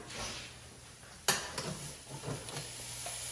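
Ground meat browns in a pan with a quiet, low sizzle, interrupted by a sharp metallic clank of a utensil against the pan and a few softer scraping stirs, faint and close.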